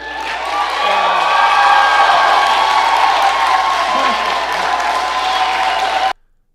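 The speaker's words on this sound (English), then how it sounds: "let's note the applause that is happening right now" A town hall audience keeps up loud, steady applause for several seconds, a dense wash of many hands close by with a few faint voices, ending abruptly.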